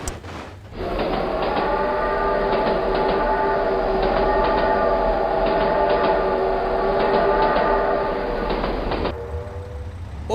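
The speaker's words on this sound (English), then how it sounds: "Oh my god, train!" Train passing in the BeamNG driving game, a loud sustained horn-like tone with steady rail rumble that starts abruptly, holds for about eight seconds and cuts off.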